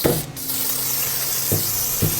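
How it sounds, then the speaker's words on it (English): A steady spray of silicone lubricant hisses continuously onto a snowblower and its chute, with a few soft knocks and clunks of handling near the start and end. "Just give it a good spray there."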